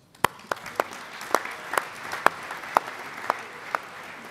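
Sparse, distinct claps ring out at a football league awards ceremony, roughly two per second and evenly spaced over a soft background hum, like a few people or a small group clapping rather than a full crowd.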